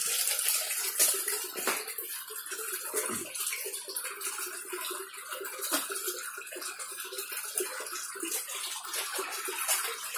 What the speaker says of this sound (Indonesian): Itu ikan yang mati saya masukkan ke dalam kolam